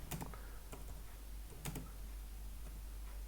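A computer keyboard clicks close by as a terminal command is typed, a quick handful of sharp keystrokes in short bursts over a low steady hum.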